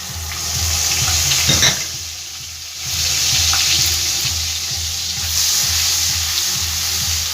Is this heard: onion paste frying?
yes